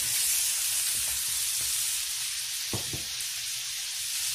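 Green beans and potatoes fry in a pan with a steady, bright sizzle and hiss throughout, with a few soft clinks of stirring in the middle.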